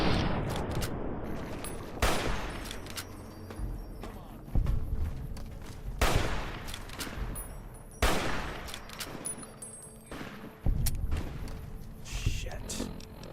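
Bursts of gunfire in Fallout: New Vegas, a sharp shot or short volley about every two seconds over a steady rumbling game background.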